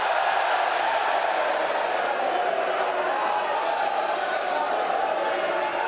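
A large crowd at a Mosconi Cup pool match makes a dense, continuous murmur of many voices, filling the space at a steady level throughout.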